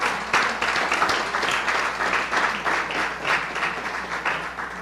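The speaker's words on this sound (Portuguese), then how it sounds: "Será que você pode dar uma salva de palmas a Deus?" A church congregation bursts into sustained applause, a steady dense wash of many hands clapping together for several seconds at a fairly loud, even level, with no talk over it.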